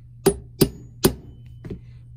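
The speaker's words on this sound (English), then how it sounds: "as I'm pounding this in, I'm gonna switch to a polymer hammer just to be easier on it." A polymer hammer strikes a screw into a Martini Cadet rifle, giving three evenly spaced sharp close taps followed by a softer fourth knock, with no talking.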